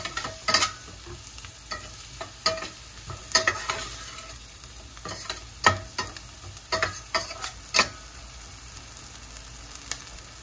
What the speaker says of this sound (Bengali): পেঁয়াজটা একটু নরম হয়ে আসলে এখন এর মধ্যে দিয়ে দিব হচ্ছে আলু ভাজাগুলো।